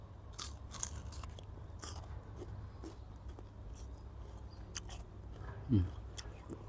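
Biting into a withered Barhi date fruit, followed by soft chewing and quiet crunching, faint and close, with one sharper bite standing out near the end.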